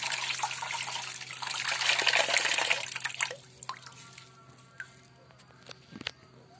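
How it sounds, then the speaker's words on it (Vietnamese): Parsley rinsed under a running kitchen tap, a steady rushing splash of water that grows heavier mid-way, then thins to scattered trickles and drips with faint handling noises. "Cho vào vòi nước rửa thật sạch nhé các bạn."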